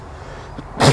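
A single short, sharp sneeze bursts out near the end, preceded by a quick intake of breath against quiet background.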